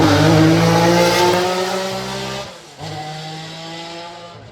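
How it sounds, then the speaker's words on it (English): A Ferrari 312 V3 Formula One car driving up a hill, its loud, high-revving engine screaming with rising and falling pitch, easing briefly before the engine revs again. "So moving on to some more action with the Ferrari, the 312 V3"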